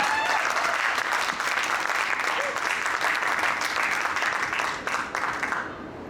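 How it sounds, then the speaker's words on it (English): A panel audience applauds a farmer from a Vermont farm: sustained, even clapping from a crowd in a hall, steady for several seconds before thinning out at the end. "Let's give him a round of applause."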